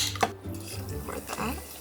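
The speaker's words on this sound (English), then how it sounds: "So first, I'm just gonna put some ice in a cup." Ice is dropped into a cup in a small apartment kitchen, giving a few faint clinks and rattles over low background hum.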